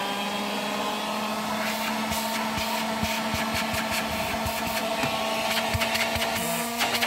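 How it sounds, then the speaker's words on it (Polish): A 1991 Zelmer type 124 car vacuum cleaner, powered from a cigarette lighter socket, runs with a steady loud whirring motor drone, with rattling and clicking of the nozzle against surfaces throughout. "Włączam wtyczkę do zapalniczki i od razu odkurzacz zaczyna pracować."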